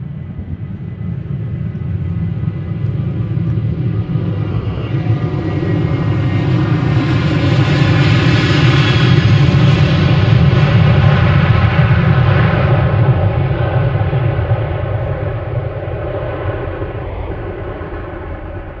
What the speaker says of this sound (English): I can hear this one already taking off.